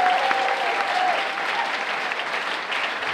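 Sustained clapping from an outdoor rally audience at the 2018 Women's March in Hilo, Hawaii, a broad, even patter of many hands that holds steady throughout.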